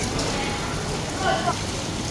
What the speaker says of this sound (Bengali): বাইরে প্রচণ্ড বৃষ্টি হচ্ছে।